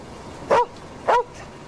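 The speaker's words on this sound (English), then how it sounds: "Friendly dog." A dog gives two loud, close barks about half a second apart against a quiet background.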